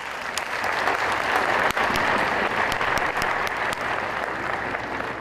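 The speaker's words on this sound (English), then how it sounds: "welcome him on stage with big applause" Sustained, dense applause fills a hall in Lomé, Togo, as the mayor's representative is welcomed onto the stage, loud and continuous with a few sharper individual claps standing out.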